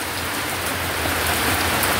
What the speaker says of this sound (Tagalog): Maulan dito po.